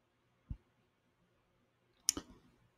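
Two computer mouse clicks sound close and faint, one soft tap followed about a second and a half later by a sharper click with a short rattling tail, in near silence.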